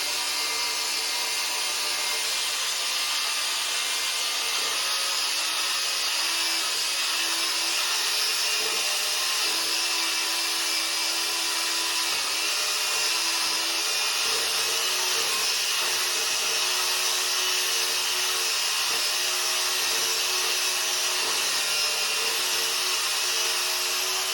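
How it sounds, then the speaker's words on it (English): Continuous high-pitched whirring of a power drill mixing drywall repair compound, running steadily and close by for a long stretch, with no talking. "And now we'll come to the drill here"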